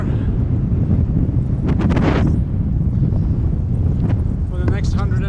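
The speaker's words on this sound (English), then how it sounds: "Wind is not very favorable for us anymore." Strong wind buffets the microphone steadily while cycling through open desert near Abri and Atbara in Sudan, a loud continuous roar with brief gusty flutters, as a voice speaks partway through.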